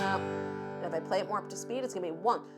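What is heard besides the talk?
No everyday noise stands out behind the speech.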